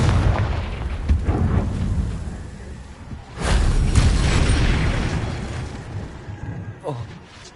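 A Confringo explosion spell blasts in a wizard video game, a loud fiery boom that swells midway and rumbles on, over a steady backdrop of game noise with brief crackles.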